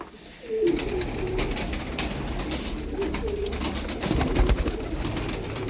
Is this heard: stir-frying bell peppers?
no